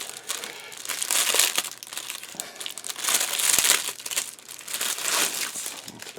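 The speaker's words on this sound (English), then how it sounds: "So obviously we've got two pieces in one bag, fold it over." Plastic bag holding two model kit track pieces crinkling and rustling as it is handled and folded over, close and steady in irregular crackly bursts with no talk.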